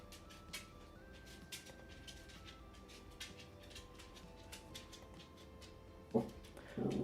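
An indoor dog whimpers and yips softly, with faint, brief whines over a low hum and a louder outburst at the very end.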